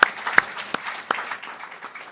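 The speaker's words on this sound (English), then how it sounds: "a round of applause" A scattering of hand claps, a few sharp and loud, thinning out into light, uneven applause from a small crowd.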